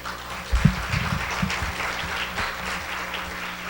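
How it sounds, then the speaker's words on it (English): Audience applause for a contribution at an international women's earth and climate session: moderate clapping from a group with a few louder claps early, settling into a steady patter. "I would like to request all our friends to give a big applause for their great"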